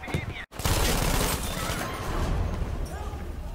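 MG42 machine gun firing in a video game, a dense, continuous burst of rapid shots following a brief cut, loud and close with a rough, crackling texture.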